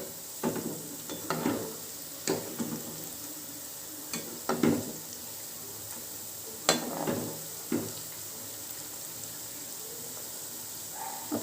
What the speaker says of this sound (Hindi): ये धीरे धीरे फ्राई होती रहेंगी